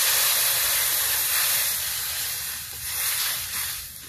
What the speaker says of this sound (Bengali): ভাজা ভাজা হয়ে গেছে, এখন জল দিব।